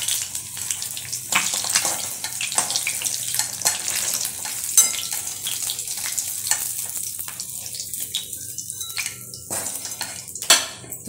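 Broken fish head frying crisp in oil, a busy crackling sizzle with frequent sharp pops and spatters over eleven seconds, close and loud with no talk.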